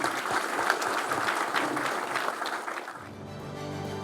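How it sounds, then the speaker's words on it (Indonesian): Audience applause at a Bareskrim police event, dense sustained clapping that thins and fades over the last second as the hall quiets, leaving low room hum. "Tepuk tangan untuk rekan-rekan semuanya."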